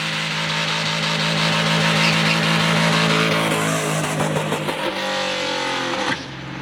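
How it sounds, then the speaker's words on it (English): A 1979 Chevy Camaro Z-28 roars through a burnout, its engine held at loud, steady high revs with a broad hiss of spinning, squealing tires. The revs drop away near the end. "there's always time for burnout"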